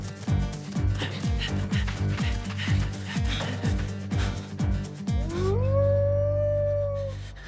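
A cartoon wolf lets out a long, loud rising howl that holds steady, following a stretch of rhythmic plucked and percussive background music in an animated children's adventure set on the Mississippi at night.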